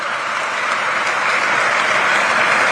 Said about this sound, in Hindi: आप सबसे निवेदन करता हूं कि एक बार जोरदार तालियों के साथ आप उनका स्वागत और अभिनंदन करें